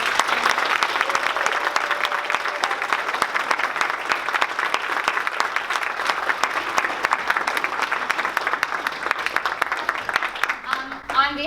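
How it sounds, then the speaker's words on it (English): An audience claps steadily for a kindergarten nativity play, a dense, even round of applause that holds at full strength for about eleven seconds before thinning at the end, with a voice briefly rising over it. "so if we could give them another round of applause"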